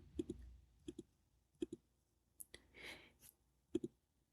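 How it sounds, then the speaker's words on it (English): Close mouse clicks on a computer selecting a Power BI slicer, arriving as quick double clicks spaced through the quiet, with a soft rustle in between. "now I'm going to click on East region"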